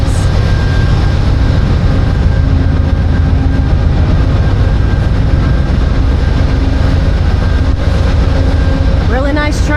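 A two-story sleeper train on a cross-country California to Chicago run produces a loud, steady low rumble with a constant engine drone and faint tonal hums, plus a brief higher squeal near the end.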